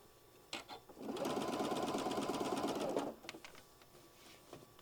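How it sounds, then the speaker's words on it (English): Sewing machine stitching around a drawstring channel with stitch length turned up, a fast steady whirring run of about two seconds between brief clicks and quiet handling. "now we're just going to sew all the way around, creating our channel."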